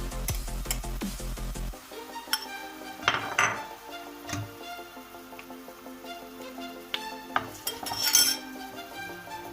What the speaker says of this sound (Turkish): soğanımızı hafif şöyle yağımızda gezdirip hemen iki kaşık salçamızı katıyoruz